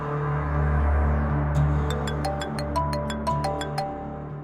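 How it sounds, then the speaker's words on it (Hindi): A mobile phone ringtone rings in a quiet domestic drama scene, a repeating series of bright, short electronic tones pulsing at a steady rhythm over a low background hum, fairly close and clear. "अमर माहिन का फोन।"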